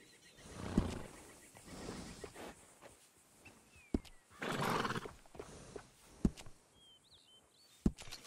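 Horses in a video game stable, with a loud neigh, a few whinnies and snorts, and sharp isolated hoof clops spaced irregularly across the clip.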